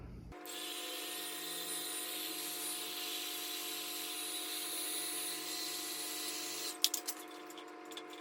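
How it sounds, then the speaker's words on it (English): A small heat gun warming the end of a fuel hose for a barb fitting on a Honda Shadow motorcycle, a steady close whirring blower hiss that runs unbroken for several seconds, then cuts off into a few faint handling clicks. "I'm just going to use my little heat gun to heat up the end of the hose and slide it on."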